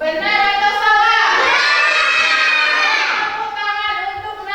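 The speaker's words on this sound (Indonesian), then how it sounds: "Tepuk tangan untuk Nanda" A classroom of primary school children applauds a classmate together, a dense burst of clapping that swells and continues for several seconds, mixed with children's voices.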